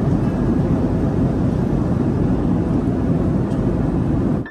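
Airplane cabin in flight at cruising altitude, a loud, constant low rumble and broadband roar of engine and air noise that cuts off abruptly at the end.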